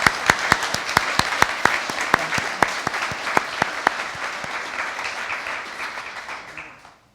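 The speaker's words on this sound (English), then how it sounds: "Could I just give them a round of applause?" An audience at an annual meeting applauds. Sharp, evenly spaced claps stand out over a dense wash of clapping that holds steady for several seconds and then tapers off to silence.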